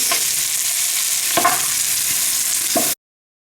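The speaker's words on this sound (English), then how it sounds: "The butter have melted and it's hot, so now it's just gonna brown our meat" Oxtail browns in hot melted butter in a pot, a loud dense sizzle running steadily with three spoon scrapes or knocks, then cutting off abruptly to silence.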